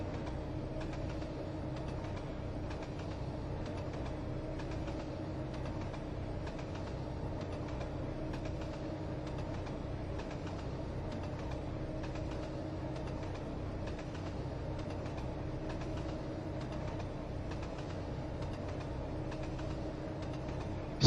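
A freight train locomotive in the Trainz simulator rumbles along at a steady, even level with a constant engine drone and faint rhythmic track clatter, with no voices heard.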